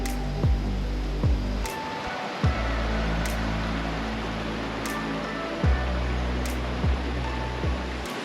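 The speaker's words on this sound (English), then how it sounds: "the running water next to us" Close, steady rush of a river's running water in Senaru, North Lombok, a broad constant wash with a few soft thumps and clicks breaking through.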